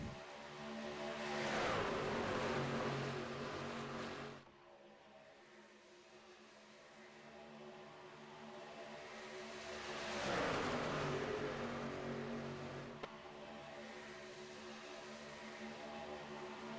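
Racing trucks on the Talladega superspeedway in iRacing, a roaring engine swelling loud as a pack passes, fading to a lower drone, then another surge of trucks sweeping past at full throttle.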